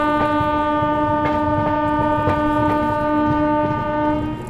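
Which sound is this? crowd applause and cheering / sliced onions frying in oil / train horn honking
train horn honking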